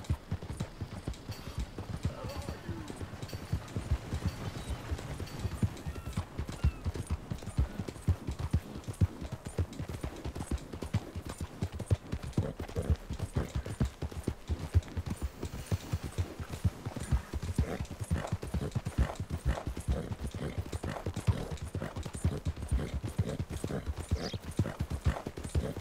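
Horse hooves clip-clop in a steady, close rhythm throughout, from the Western video game Red Dead Redemption 2, with no talk over them.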